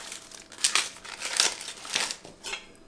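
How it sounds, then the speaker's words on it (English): Red leaf lettuce is roughly torn by hand for a Thai fried egg salad, giving a series of crisp, crinkly rips in quick bursts, close and fairly quiet, with no talking. "a couple of cups of red leaf lettuce that we're just going to roughly tear"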